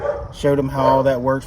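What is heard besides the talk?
dog barking in the background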